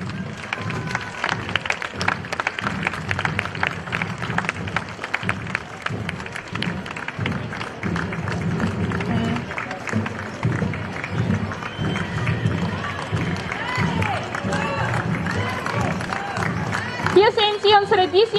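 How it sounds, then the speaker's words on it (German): At a historical festival parade for the Drachenstich in Furth im Wald, a large outdoor crowd claps and cheers for the knight, a dense patter of applause with hubbub that swells again near the end, while an announcer speaks over it. "Geben Sie bitte einen besonders kräftigen Applaus für unsere Ritterin."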